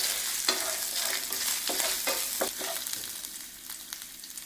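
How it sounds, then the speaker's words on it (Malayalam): Coconut pieces frying in ghee in a pan, a steady close hiss of sizzling broken by scraping stirs and small pops, gradually easing off. "ഞാനിതിലേക്ക് തേങ്ങാക്കൊത്ത് ചേർത്ത് കൊടുക്കുകയാണ്. ഒരു 2 സ്പൂൺ തേങ്ങാക്കൊത്തുണ്ട്. നമുക്കൊന്ന് ഫ്രൈ ചെയ്തെടുക്കാം."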